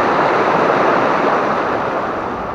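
Strong flowing water at a deep, dark trout fishing spot on a river, a loud, close and continuous rush of current with no voices.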